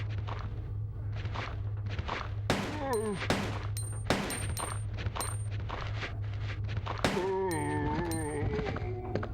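Video game gunfire: sharp single shots and short bursts snap out at irregular intervals over a steady low hum, fairly quiet overall with clicking metallic impacts in between.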